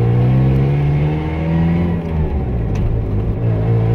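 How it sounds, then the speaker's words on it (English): A five-speed truck pulling away in first gear, its engine revving up with a steady rising harmonic drone that dips briefly near the two-second mark, loud and close with no talk. "we're going to put her in first gear and we're going to take off"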